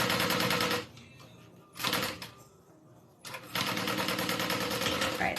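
A sewing machine top stitches a cotton fabric wallet lined with interfacing. Loud bursts of close, rapid stitching start and stop, with quieter pauses between them.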